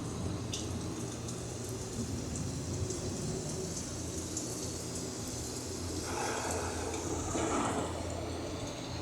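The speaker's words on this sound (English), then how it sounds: "The approaching storm may seem violent and destructive to us" A simulated storm inside an Epcot ride at Walt Disney World brings a steady hiss of rain over a low rumble, with a thunder-like swell building near the end.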